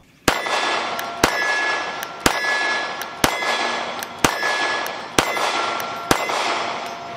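Seven loud, sharp shots from a Beretta APX Compact 9mm handgun, fired at an even pace about one per second, each followed by a short ringing tail.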